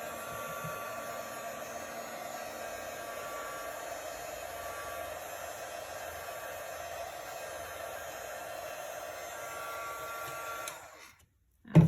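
A hair dryer blows steadily on the edges of a painted wood sign, a constant airy whir at moderate loudness that cuts off near the end.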